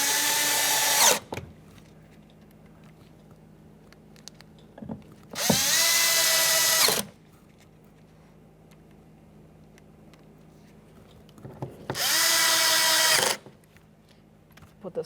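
A power drill drives the speaker mounting screws on a Jeep Grand Cherokee: three loud, close whirring bursts of about one to two seconds each, separated by quiet pauses with faint handling clicks.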